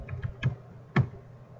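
Keystrokes on a computer keyboard while entering a tag name in RSLogix 5000: a few scattered, close taps with one firmer press near the end, no voices.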